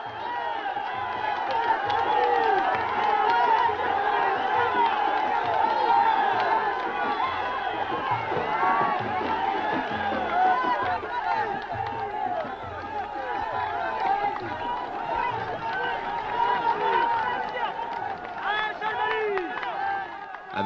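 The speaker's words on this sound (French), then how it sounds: "la foule s'est installée rapidement" A vast crowd gathered at Tarfaya during the 1975 Green March fills the air with a continuous dense roar of voices, shouting and scattered clapping, loud and unbroken throughout.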